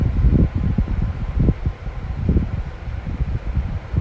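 A steady low whooshing drone of an air cooler fan runs throughout in a buffalo shed, with uneven rumbling gusts but no voices.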